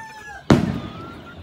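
A single firework bursts with a sharp, loud boom during Fourth of July celebrations, then its sound decays into a fading rumble over steady background noise.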